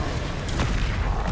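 A Bombarda explosion spell in Hogwarts Legacy lands as a short, deep booming blast with a sharp burst, moderately loud and heard alone in the game's combat.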